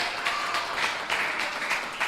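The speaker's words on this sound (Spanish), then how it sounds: "pues vamos a darle un aplauso a esta gente." Church congregation applauding during a Bible class: steady, dense clapping from many people filling the room, moderately loud and continuous with no speech.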